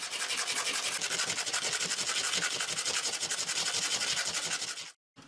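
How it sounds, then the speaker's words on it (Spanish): An aluminum piece is rubbed back and forth with metal sandpaper to fit a cut, giving a steady, close, rapid rasping scrape that runs continuously, then stops abruptly near the end. "la lijo con una lija para metal hasta que encaje perfecta"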